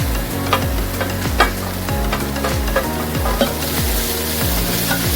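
Green beans stirred and fried in a pan with chopped garlic, a steady loud sizzle broken by a regular scraping stir roughly every second, close and continuous with no voices.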